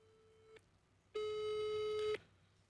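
A telephone line gives a short tone, then one longer steady ringback tone while a call is being placed, quiet and electronic with no talking.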